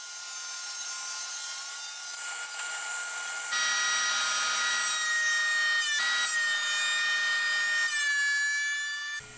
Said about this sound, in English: I jointed them and planed them and ripped them down into 2-inch blanks